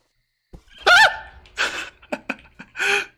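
A cat meows in a Roblox horror game set at a night-shift minimarket, a short rising-and-falling cry followed by several brief breathy noises and scuffs, close and fairly loud.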